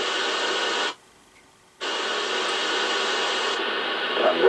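A harsh wash of radio static from a noisy AM transmission on a President Walker ASC CB radio cuts out for about a second, then the hiss returns and carries on steadily.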